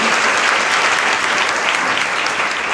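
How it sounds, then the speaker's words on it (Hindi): Audience at a Christian Bible study gathering applauds for the Lord, a dense, steady wash of many hands clapping at close range, loud and continuous throughout with no voices over it. "या एक अच्छी ताली बजा दे वापस प्रभु के लिए"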